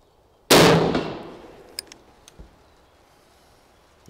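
A single sharp rifle shot from TOPSHOT ammunition cracks loudly and close, followed by a decaying echo and a few faint clicks, outdoors as light rain starts, with no talking.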